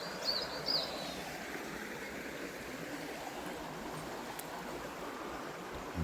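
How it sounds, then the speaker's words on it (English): River water flowing through overgrown woods, a faint, steady broadband rush far off with a few distant bird chirps over it, no talk. "Oh, there's a river that goes down there."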